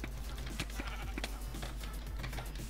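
Video-game sheep bleating in short repeated calls over a steady low background hum, fairly faint, with no talk.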